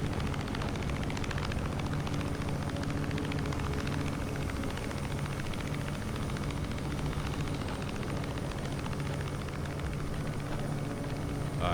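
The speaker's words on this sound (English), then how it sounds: "That's what the Osprey sounds like in real life." Deep, steady rotor thrum and engine roar from an Osprey tiltrotor aircraft, loud and continuous throughout with no pauses and no voices.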